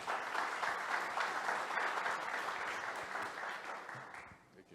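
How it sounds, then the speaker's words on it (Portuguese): Audience applauding a company director introduced to give a talk, a steady dense wash of clapping that holds loud throughout, then thins and fades near the end. "a quem eu peço uma salva de palmas"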